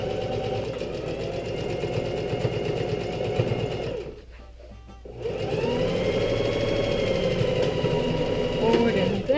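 A sewing machine stitches forward and back over a pants patch seam, a steady close mechanical whir that stops briefly midway and then resumes at the same pace.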